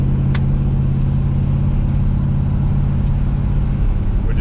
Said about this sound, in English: We're just kind of driving and listening now as we get up further in RPM for any kind of detonation.